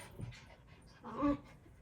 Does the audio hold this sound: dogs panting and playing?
yes